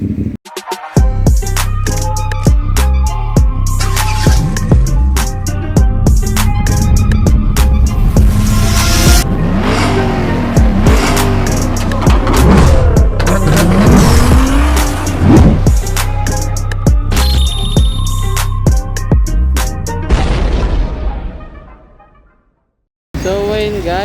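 Loud roar of sport motorcycle engines, a Yamaha R1 among them, revving and blipping through rising and falling sweeps, with steady engine drone and overlapping voices, before cutting out briefly near the end.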